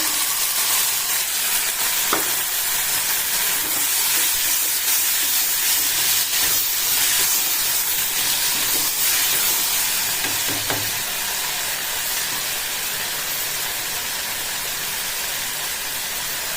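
Small chopped tomatoes sautéing in a pan with green chilli for a cabbage chicken curry, producing a loud, continuous close-up sizzle and hiss with occasional stirring scrapes throughout.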